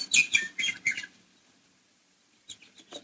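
Birdsong used as a radio drama sound effect in a 1945 Sherlock Holmes broadcast: a quick run of bright chirps up close, then a short silence before a few fainter tweets return.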